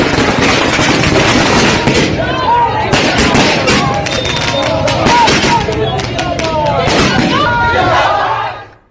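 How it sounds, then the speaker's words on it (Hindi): Firecrackers burst in dense, loud volleys at a BJP political celebration in Bihar, crackling continuously for about eight seconds over a noisy crowd before cutting off. "सम्राट पहुंचे तो फिर पटाखे जलने शुरू हुए"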